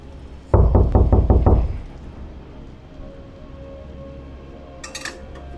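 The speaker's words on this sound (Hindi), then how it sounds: "अरे देखो, दरवाजे पे कौन है?" A door is knocked on in a quick burst of about five loud raps, followed by quiet room tone and a faint clink near the end.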